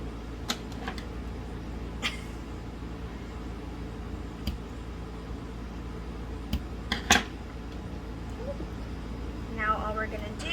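Scissors trimming ribbon ends short while making a DIY bow: a handful of brief, crisp snips spaced irregularly over a low, steady background.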